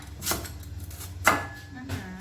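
Three separate knife chops land on a cutting board with pauses between them, fairly soft and close, cutting herbs such as lemongrass.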